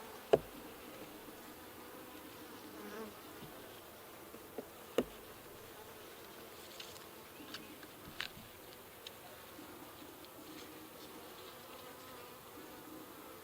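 Honeybees in a horizontal hive with a deep box under a 7-inch medium make a steady, soft, continuous buzz throughout, with a few sharp knocks and clicks that sound like frames being handled nearby.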